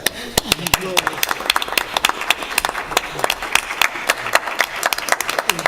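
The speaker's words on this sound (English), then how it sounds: "Should give you a round of applause." Small group applauding a newly elected assistant fire chief at a trustees meeting: sparse, distinct individual claps in an uneven rhythm, close and crisp, with a few voices talking faintly underneath.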